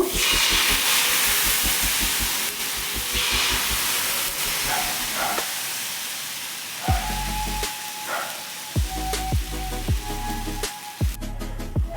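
Ragi dosa batter spread on a hot tava gives a loud, steady sizzle and hiss that fades, followed by a few scraping and tapping sounds; no one speaks.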